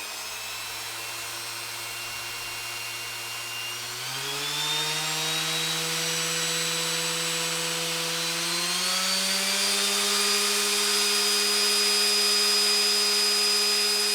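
Makita random orbit sander running free and stepped up through its speed settings from 1 to 5, a steady loud motor whine that rises in pitch in distinct jumps and holds at each new level.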